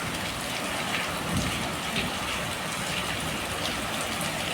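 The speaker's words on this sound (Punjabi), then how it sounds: "ਮੀਂਹ ਵੇਖੋ ਪੈ ਰਿਹਾ" Heavy rain pours onto wheat sacks piled at an open grain market, a dense, steady hiss of drops with soft pattering texture, loud and continuous throughout with no voices.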